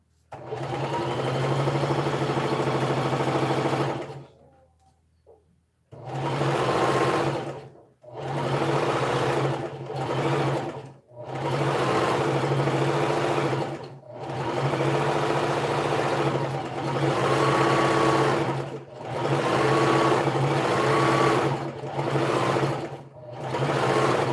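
A sewing machine stitches fabric sleeves in a series of bursts, each run lasting a few seconds with short pauses between, the steady motor hum loud and close.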